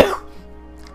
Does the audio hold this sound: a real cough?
yes